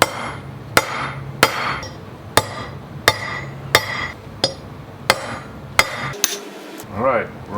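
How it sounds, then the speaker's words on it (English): Hammer blows land on a steel center punch to mark a drill spot on a small DIY weld table, about ten sharp metallic taps at an even pace, close and loud, with brief pauses between strikes. "Center punch this guy right here, just to mark where I'm gonna drill in here."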